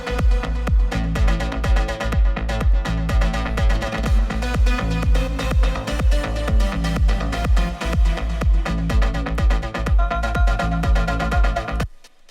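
A full melodic techno track plays loud and continuous, driven by a steady four-on-the-floor kick with layered synth melodies and chords, ending abruptly near the close.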